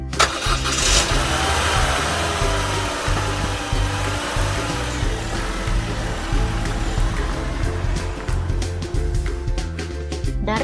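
Car and motorcycle engines in a classroom lesson on straight-line motion, an engine cranking to life with a sharp onset, then a steady loud idle and revving with a rhythmic mechanical pulse.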